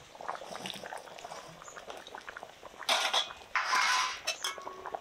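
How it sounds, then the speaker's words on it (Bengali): Mutton curry gravy boiling in a pot, soft bubbling and popping with a couple of louder bursts of spluttering, close and faint, with a light clink of utensils. "ঝোল বলক এসে গেছে, জাল হয়ে গেছে"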